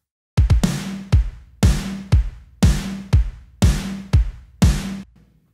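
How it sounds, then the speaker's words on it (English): Triggered kick and snare samples for realistic pop-country drums play together in a hard-hitting groove. Double kick thumps alternate with loud, bright snare cracks in a steady pattern, with no other sound. "Let me play you just the triggered kick and snare together so you can hear what that's doing."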